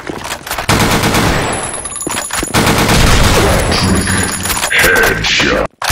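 Dense, loud gunfire in the online shooter game Blackshot: rapid automatic bursts crackling almost without a break, with heavy thumps that fit a grenade explosion among them and a brief drop near the end.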